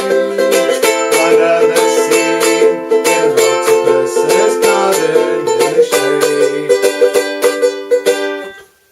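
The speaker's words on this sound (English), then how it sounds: "I'm landing on the instrument, and I'm getting a bit of a thud with some of the notes" A ukulele strummed in a steady rhythm with percussive muted chucks landing on the instrument's body with a thud, while a voice sings along; it ends abruptly.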